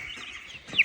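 A young chick from a home egg hatch gives a single soft cluck near the end, quiet and close against faint background hiss.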